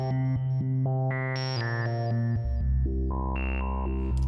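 Hydrasynth synthesizer notes step through a melody, each tone bright and sustained with a reverberant tail, loud and alone with no voices.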